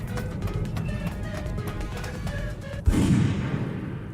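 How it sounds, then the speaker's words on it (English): A single sharp gunshot cracks out in the video game Master Detective Archives: Rain Code, cutting abruptly over background game music and leaving a brief rumbling tail. "Was that a gunshot? That can't possibly be good."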